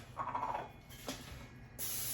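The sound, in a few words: cooking spray sprayed onto a cookie sheet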